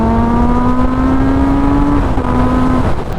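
A Kawasaki Z900 RS motorcycle accelerates hard, its engine note climbing steadily in pitch, then dropping briefly at a gear change before climbing again, loud and close with no talk.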